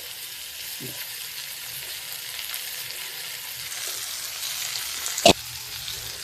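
Stuffed kundru (ivy gourd) fry in a pan with a little oil, a low, steady hiss with a faint crackle, plus a brief sharp clink near the end and no talking.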